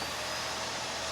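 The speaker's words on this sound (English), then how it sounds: "So we can do one of two things to turn this vacuum on." A GarageVac wall-mounted vacuum running steadily after being switched on by its on-off switch, a continuous broadband motor whir with a low hum, loud and close with no break.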